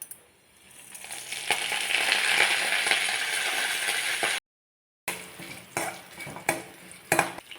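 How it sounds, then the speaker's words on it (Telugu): Peanuts, chana dal and urad dal fry as a tempering in a pan, giving a steady, moderately loud sizzle that cuts off, followed by sparse metallic clinks and scrapes of stirring. "పోపులన్నీ వేపేసానండి. వేగిపోయాయండి."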